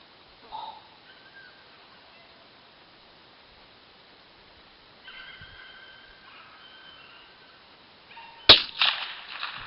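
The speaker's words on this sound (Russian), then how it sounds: "Сделал 3 выстрела, чтобы было все без обмана." A single sharp, loud gunshot near the end from an IZh-94 Sever combination gun, 5.6 mm over 20 gauge, fired outdoors after a stretch of near silence, with a short ringing decay.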